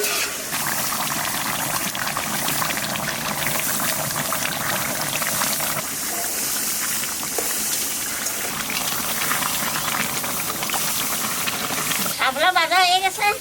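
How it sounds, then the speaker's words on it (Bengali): Water trickles slowly into a covered cooking pan of egg kosha, a steady close hiss and gurgle throughout, with a brief warbling, voice-like sound near the end. "ঢাকা দিয়ে আস্তে আস্তে জল দেবো"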